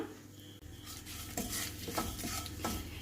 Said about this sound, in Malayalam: ഇനി ഇതിലേക്ക് ആവശ്യമായ ഉപ്പും കൂടി ചേർത്ത് നമുക്ക് ജസ്റ്റ് ഇതൊന്ന് മിക്സ് ചെയ്തെടുക്കാം